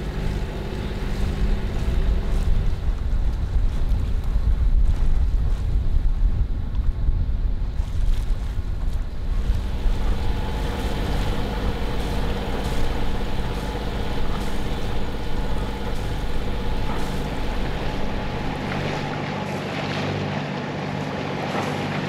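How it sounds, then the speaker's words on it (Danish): A sailboat motoring at sea under engine power: a constant low engine drone mixed with wind buffeting the microphone and water rushing along the hull, loud and steady, easing slightly toward the end. "Det er jo motorsejlads hele dagen."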